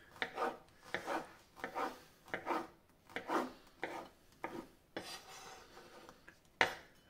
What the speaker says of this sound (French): je prends ma tomate. Je vais la couper en petits cubes.